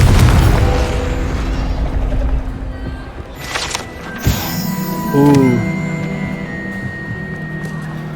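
Confringo blasting spell going off in Hogwarts Legacy, a sharp boom near the middle followed by a ringing magical swell, with game music and ambience running throughout.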